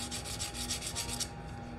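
A file rasps back and forth across a hardened resin rolling tray in quick, even strokes, a close, continuous scratchy rubbing over a faint steady hum.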